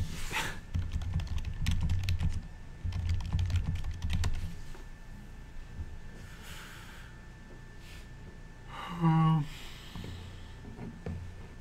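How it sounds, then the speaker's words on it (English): Bursts of quick computer keyboard typing, close and crisp, come in several clusters during a Legacy card game stream, with a person talking and breathing between them. "Oh, I'll type it."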